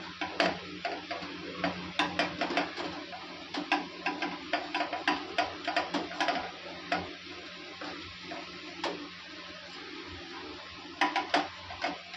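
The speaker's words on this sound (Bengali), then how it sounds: "এখন মাছটা ভাজবো।" Fish frying in hot oil in a wok, a quiet steady sizzle broken by irregular sharp crackles and pops, close and fairly soft with no voices.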